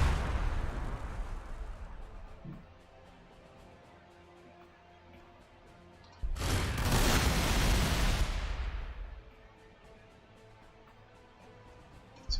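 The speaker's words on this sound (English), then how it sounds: "we're going to grenade this hunter" Grenade blast in Warhammer 40,000: Gladius, thrown by Ork units at an enemy hunter: a low rumble fading out, then one loud broad explosion lasting about two seconds before it dies away.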